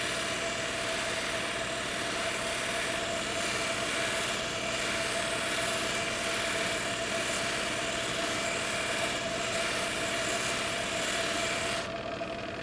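Rock cabochon spinning on a lapidary polishing machine, a constant loud motor whine with a steady hum throughout, no voices.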